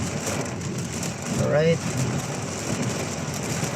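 Heavy rain pours down on España Boulevard in Manila, a steady broadband hiss with traffic rumbling beneath it, and a person speaks briefly partway through.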